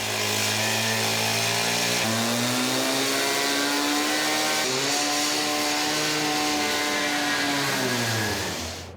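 A gas-powered 14-inch demo saw with a diamond blade cuts through a concrete mural, its engine roaring loud and close with a steady buzzing drone that shifts pitch a few times before easing off at the end.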